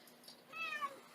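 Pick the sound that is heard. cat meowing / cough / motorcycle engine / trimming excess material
cat meowing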